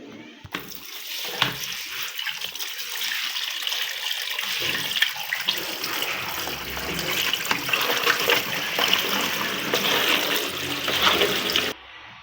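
Fish being rinsed by hand in water while cooking in a village kitchen, a steady close splashing and running-water wash lasting nearly the whole stretch, with no voices.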